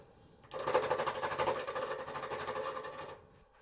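Lathe gouge cutting resin on a wood lathe, a dense buzzing chatter that starts abruptly, runs steadily for about two and a half seconds, then stops, close and fairly loud.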